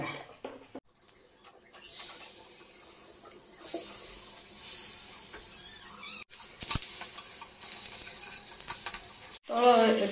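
Slices of taro (arbi) fry in oil over a medium flame, a soft steady sizzle with bursts of brighter crackle and a few brief stirring clatters, fairly quiet and close.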